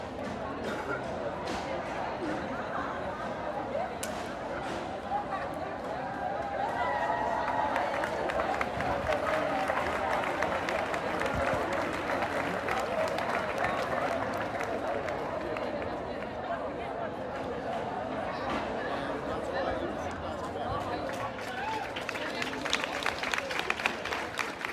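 Nurses clapping at an outdoor union gathering outside Rigshospitalet, scattered rhythmic applause and crowd murmur running steadily under someone talking throughout.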